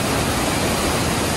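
Heavy falling water from a big waterfall in Saeedabad, Bursa, roaring close and constant throughout, a thick unbroken rush with no one speaking.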